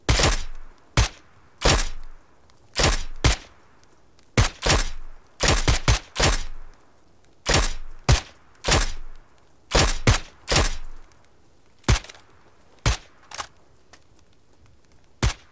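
Video game gunfire rings out as loud, sharp single shots, some spaced apart and some in quick clusters, with no talking.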